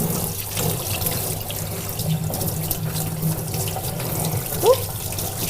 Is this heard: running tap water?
yes